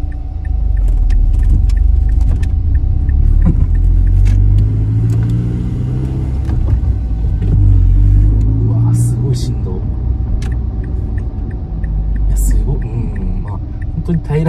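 A Mazdaspeed3 fitted with a CorkSport race rear motor mount drives along, its engine a heavy low rumble and hum that swells as it accelerates. Engine vibration comes through the cabin, and a voice talks over it.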